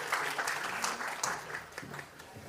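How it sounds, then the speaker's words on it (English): Conference audience applauding in a hall during a session on AI and cybersecurity, a brief continuous burst of many hands clapping at moderate loudness. "Can we have another round of applause with some warmth and some energy?"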